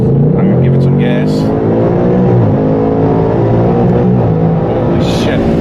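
A 2018 Ford Mustang GT with a Vortech supercharger accelerates, its engine rising in a loud, steady roar with rising harmonics and a whine, while people talk over it throughout.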